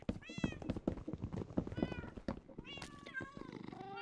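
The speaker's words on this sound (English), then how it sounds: "There you go, good cat." A Minecraft cat gives a string of high, tonal meows, several short ones and then longer rising-and-falling calls, close and clear against a quiet game background.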